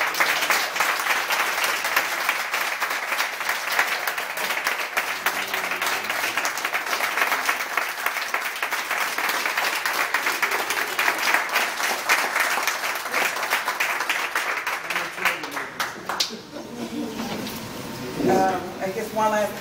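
A room audience gives a long, steady round of applause at a community event, dense clapping sustained for about sixteen seconds before thinning out as a voice begins speaking near the end.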